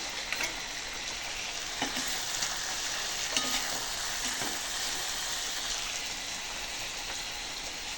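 Mutton being sautéed for kosha sizzles in a pan with a steady frying hiss. A few scrapes of stirring come through now and then, and no one speaks.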